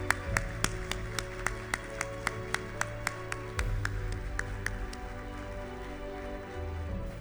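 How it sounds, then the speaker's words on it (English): Graduates at a 2021 founding class graduation ceremony applaud their families and friends, with a sparse, fairly rhythmic run of claps over a low steady hum in a hall, fading into quieter room tone. "Please face your families and friends and supporters and thank them with a big round of applause"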